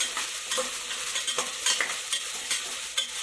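Mixed vegetables frying with ground dry-roast masala in a pan for vegetable butter rice, a steady close sizzle broken by repeated scraping stirs, with no talking.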